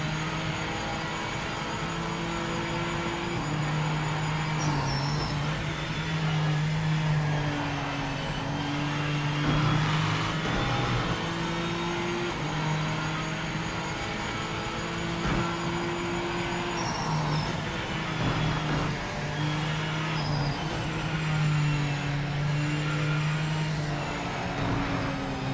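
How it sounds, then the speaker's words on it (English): Engine drone from an opponent's race car in the Project Motor Racing sim, a steady buzzing tone that rises and falls with gear changes, blended with the player's own car noise and never dropping out. "I can even hear his car up there"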